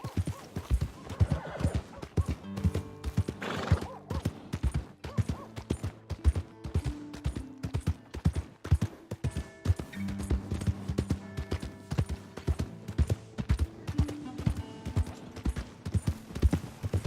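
Steady clip-clopping hooves beat in a regular rhythm in the video game Red Dead Redemption 2, with a horse whinnying briefly near the start, fairly quiet and without speech.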